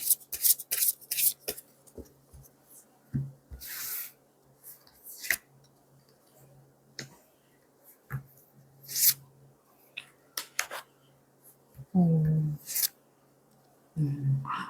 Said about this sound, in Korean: 카드를 뽑아보도록 할게요